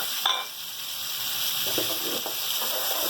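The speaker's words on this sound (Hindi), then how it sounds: "ये अब इसके हम अंदर डाल देंगे ताकि हमारे मसाले भी इसके साथ अच्छे तरीके से फ्राई हो जाए" Goat trotters fry with spices in a pot, making a continuous, even sizzle that stays close and fairly loud throughout, with no voices.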